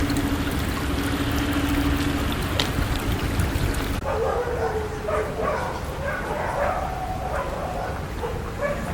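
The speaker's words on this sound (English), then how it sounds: "Must be a dog park up there" Dogs bark intermittently from a distance at a dog park up the hill, faint yips and barks carrying over steady outdoor ambience and running water, with an abrupt shift in background noise partway through.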